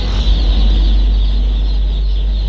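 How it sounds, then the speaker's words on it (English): Baby chicks chirp and peep continuously in a loud, dense chorus, close by, with a steady hum underneath and nobody speaking. "So all these are chickens."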